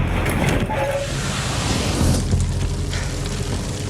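A film-set fire effect flares up on the creature prop, a broad rumbling roar of flame with low booming whooshes that swell and settle over a few seconds, loud and close.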